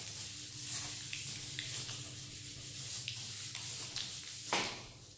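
A harmonica mouthpiece of a Swan SW1664 16-hole chromatic being sanded with a back-and-forth rocker motion, giving a soft, continuous close rubbing scrape with faint ticks, quiet and alone.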